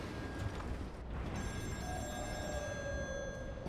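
In the Still Wakes video game, a telephone rings on an offshore oil rig, its bell trilling faintly and steadily over a dense, rumbling industrial background.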